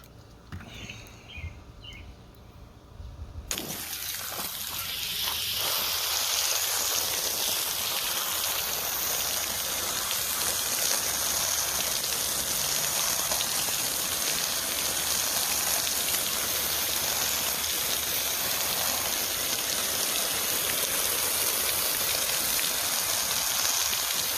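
Garden hose spraying water to rinse soap off spa filters, a steady, loud hiss of spray starting after a few seconds of quieter handling noise and continuing without pause.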